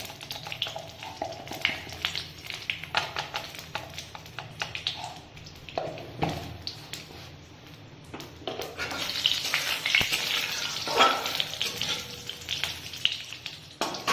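Bay leaves and panch phoron spices sizzle and crackle in hot oil in a kadai, a steady frying hiss with occasional taps and stirring, growing louder toward the end.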